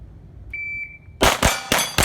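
Gunshots ringing off steel targets at a fast practical shooting drill, four loud sharp cracks with metallic ring in quick succession, preceded by a thin electronic tone from a shot timer.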